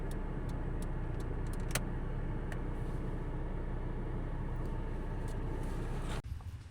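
Hazard lights on a 1995 Volkswagen Polo Harlekin ticking in a steady, even rhythm over a constant low engine hum, close and moderately loud, with no talking.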